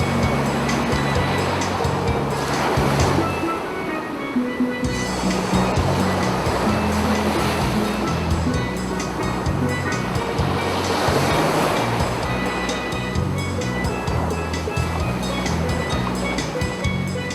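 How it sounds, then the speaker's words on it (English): Ocean waves rolling onto the beach at Daytona, a loud continuous roar of surf with broad swells rising and falling every few seconds, and a low rumble underneath, with no voices. "I just can't seem to get enough of the clear skies and hypnotizing waves."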